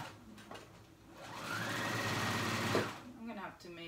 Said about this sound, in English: I'm just going to do a straight stitch on my sewing machine.